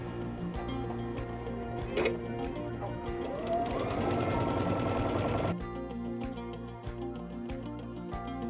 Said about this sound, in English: So let me start sewing some of our pieces together.